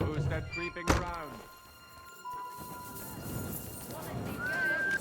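A horse whinnies and snorts amid a heavy thunk and hoof thuds in the game Kingdom Come: Deliverance 2, with voices speaking around it and game ambience underneath.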